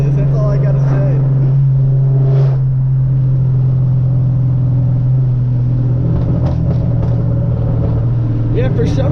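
A full bolt-on modified 2013 Hyundai Genesis Coupe 3.8 V6 drones steadily while driving, a loud low engine and exhaust hum holding through the cabin with slight shifts in pitch, while someone talks over it.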